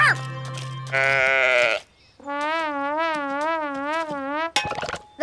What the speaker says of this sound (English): That is one dizzy sheep!